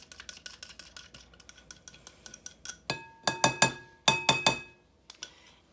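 A whisk with a scraper on its side beats a mixture in a bowl, giving quick light clinks at first, then louder, sharper clatters in short bursts, close by with no talking.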